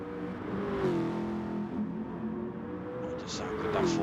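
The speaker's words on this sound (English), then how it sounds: "sound good, that Ford." A Ford Gr3 race car engine revs and shifts pitch during a racing video game event, a droning motor tone rising and falling under steady commentary talk, with a faint second engine note near the end.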